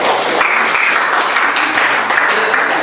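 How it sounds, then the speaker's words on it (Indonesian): A classroom of students claps for a group in a short, loud burst of applause, dense and continuous for under three seconds, with no talking over it. "Oke, tepuk tangan kelompok"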